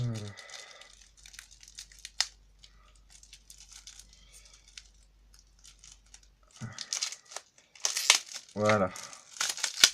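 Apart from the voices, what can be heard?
opening a packet of anime cards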